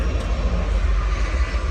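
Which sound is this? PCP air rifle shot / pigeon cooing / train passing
train passing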